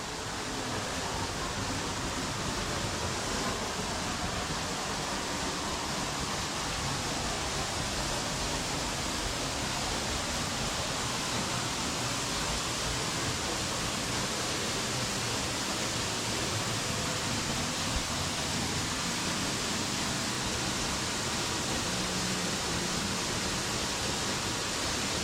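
Steady, dense roar of a waterfall in the Columbia River Gorge, heard up close as an unbroken wash of falling water with no pauses or voices.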